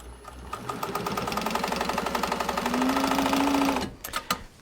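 A sewing machine stitches a line on a Peltex placemat with a fast, steady mechanical chatter, loud and close, before stopping with a few short clicks at the end.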